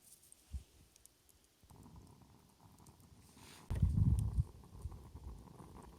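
An espresso coffee pot sits on a campfire, with faint low gurgling that swells into a brief louder burst of bubbling over quiet outdoor background.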